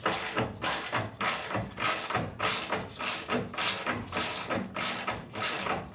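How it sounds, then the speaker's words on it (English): Ratchet wrench tightening the top suspension nuts that hold camber-adjusting shims on a 1971 Buick Riviera during a brake and suspension overhaul: close, steady rhythm of rapid ratcheting clicks in repeated strokes. "He's tightening up the nuts on the top that have shims to adjust camber"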